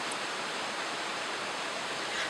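Pistyll Rhaeadr waterfall pours through the surrounding forest as a steady, even hiss of falling water, moderately distant and unchanging throughout.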